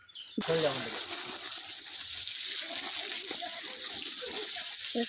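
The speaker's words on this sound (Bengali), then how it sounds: "ওই যে ট্যাঙ্কি ভর্তি হচ্ছে, সব কালকে লোক কাজ করবে তো মোটর চালিয়েছে" A motor pump pours water into a tank at a new house site, a continuous gushing splash that starts abruptly and runs steadily, with people talking over it.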